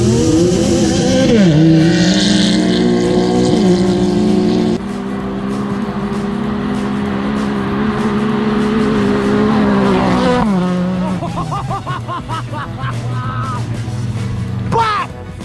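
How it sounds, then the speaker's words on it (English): A Yamaha side-by-side tears across off-road terrain, its engine revving loud and close with shifting pitch. Crackling backfire pops come near the end, and voices yell over the motor. "you hear that Yamaha backfire right there"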